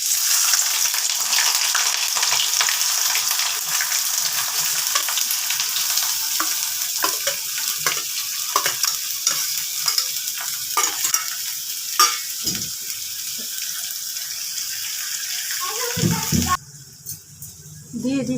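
Chopped onions fry in hot oil in a wok, a loud steady sizzle with scattered spatula scrapes and stirring clatter throughout, which drops away abruptly near the end.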